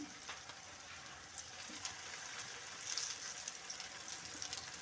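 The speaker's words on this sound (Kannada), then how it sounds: "ಎಣ್ಣೆ ಕಾಯ್ದ ನಂತರ ನಾವು ಅದನ್ನು ಫ್ರೈ ಮಾಡ್ಕೊಳ್ಳೋಣ. ಇವಾಗ ಒಂದೊಂದಾಗೆ ನಾನು ಇಡ್ತಾಯಿದ್ದೀನಿ." Coin parotta frying in hot oil makes a soft, continuous sizzle and crackle with small pops scattered throughout, fairly faint and steady.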